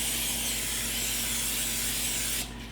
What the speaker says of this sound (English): You simply spray the pan